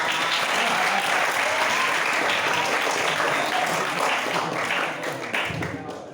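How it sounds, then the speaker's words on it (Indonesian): An audience at a book discussion event claps in sustained, dense applause that gradually tapers off toward the end, with faint voices mixed in. "Tepuk tangan yang meriah dong."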